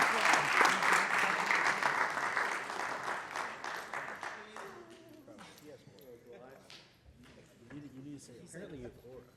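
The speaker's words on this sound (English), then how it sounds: "Another round of applause for your all-conference players." An audience applauding all-conference players at a coach's event, dense clapping that is loud at first and fades, with voices talking over the tail.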